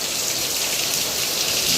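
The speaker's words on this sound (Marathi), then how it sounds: "जोरात आला पाऊस." Heavy monsoon rain pours down steadily outdoors, a dense, even hiss of raindrops with no breaks and no talking.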